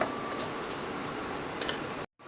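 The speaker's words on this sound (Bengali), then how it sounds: "ডালিয়াটাকে আর মুসুর ডালটাকে আমার শুকনো কড়াইতে নাড়া হয়ে গেছে" Broken wheat and red lentils being stirred in a dry pan, a dense gritty rustle of grains scraped by a utensil, steady and close, then a brief cut to silence.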